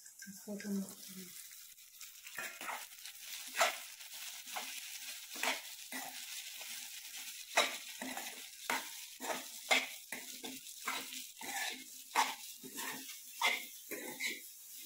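Sabudana, peanuts and salt frying and being stirred in a pan: repeated scraping strokes with a light sizzle underneath, close and moderately quiet, with faint talk at times.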